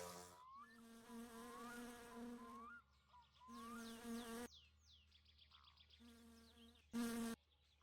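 Wasps buzzing in the game My Winter Car, a close and persistent insect drone that starts and stops in several bursts, mixed with faint chirpy background tones and a brief sharp burst near the end.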